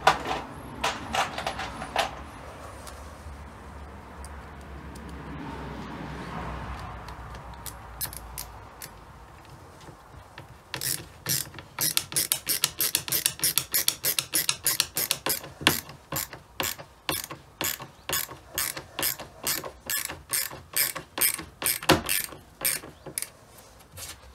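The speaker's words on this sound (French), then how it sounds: "Petit tournevis." Small hand screwdriver driving screws into the wood cladding panels of a van conversion, rapid ratcheting clicks in quick rhythmic bursts after a quieter start with a few handling knocks.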